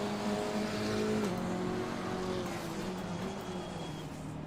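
Aston Martin GT4 race car in Assetto Corsa Competizione at Donington, engine droning loud and steady at high revs with gear-change pitch drops, alone without talk.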